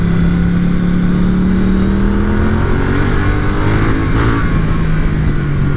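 A Triumph Street Twin motorcycle engine pulls hard uphill, a loud, close, continuous revving drone with a pitch that climbs and then levels off.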